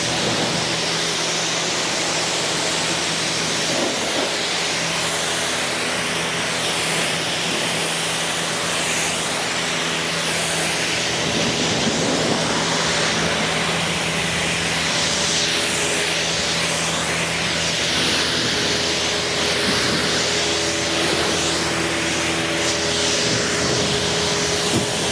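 A water spray rinses soap suds off a car, a continuous hissing wash of noise that holds steady and fairly loud throughout with no pauses.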